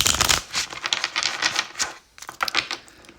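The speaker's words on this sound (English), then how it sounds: "I'm just going to shuffle one more time." Tarot cards being shuffled by hand in a series of quick riffling, clicking bursts, close and fairly loud, with a short pause before a final flurry; no talking.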